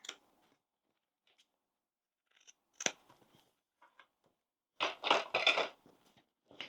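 Scissors snip off the corner of a sewn fabric bag seam: a few sharp, close cuts spaced apart, followed by a quick cluster of louder snips near the end, with near silence between.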